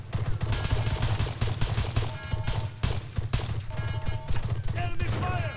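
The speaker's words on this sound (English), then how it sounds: "Enemy fire!" Sustained gunfire from the military shooter game ArmA 3, dense overlapping rifle and machine-gun bursts crackling continuously throughout, with scattered voice calls faintly beneath the shooting.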